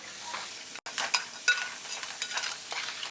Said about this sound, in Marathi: आता हा कट केलेला कांदा आहे हा टाकून देऊया मस्त आता टाकूया मीठ म्हणजे कांदा पटकन लाल होईल